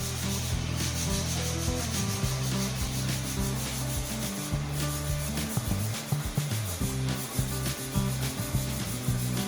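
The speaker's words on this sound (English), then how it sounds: "I'm just washing back all of the excess grout here" Sponge wiping and scrubbing excess warm gray grout off a freshly laid herringbone brick floor with a border in a laundry room, a close, continuous gritty rubbing and scraping with rhythmic back-and-forth strokes and no talk.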